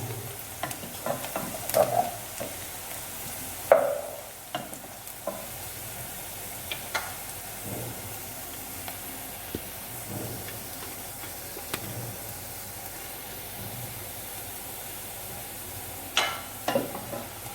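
Onions fry in a pan for Punjabi kadhi pakora, a gentle steady sizzle broken by the scrape and clink of a spoon stirring now and then.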